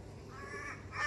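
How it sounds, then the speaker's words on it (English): A crow caws somewhere out of sight in a home garden, faint and distant under steady outdoor background noise, with no talk over it. "God, that crow's noisy wherever it is."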